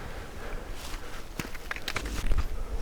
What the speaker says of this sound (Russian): Снова сейчас слышу какие-то шаги.